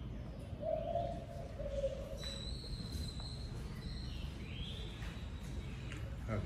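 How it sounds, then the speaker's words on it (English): A mother dove or pigeon coos near her nest at a home in El Salvador, a soft low call rising faintly over steady outdoor ambience, with a few higher chirps later. "I have this mama bird up here."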